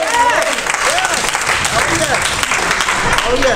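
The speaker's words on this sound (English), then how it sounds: "clap your hands if you believe it." A church congregation claps hands during a pastor's sermon, loud continuous clapping throughout with a voice over it.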